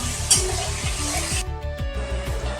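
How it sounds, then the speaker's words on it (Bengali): Salted carrot pieces, about 200 grams, fry in a hot pan for mixed fried rice. A steady sizzle sits under quick, rhythmic scraping stirs. Near the end the sizzle drops and only the stirring strokes remain. "নুন দিয়ে গাজরটাও ভেজে নিচ্ছি।"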